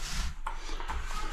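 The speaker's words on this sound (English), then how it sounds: "rolling this primer on the wall" A paint roller spreads primer across a wall before tiling, giving a close, rough, continuous rolling and rubbing noise with a few louder pressure strokes.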